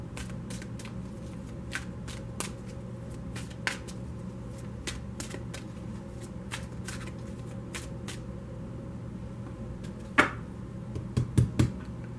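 Tarot card deck being shuffled by hand: soft, close riffling and flicking of cards in sparse taps, with a denser burst of card handling near the end.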